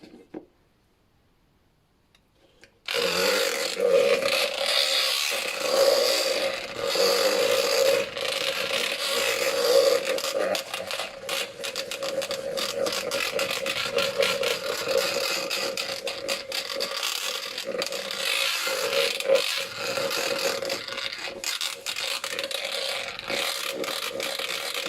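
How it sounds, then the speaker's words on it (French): A small electric hand mixer whips shea butter into a fluffy cream, starting abruptly after a moment of quiet and then whirring steadily with scraping and rattling against the bowl. "je vais utiliser le batteur plus petit"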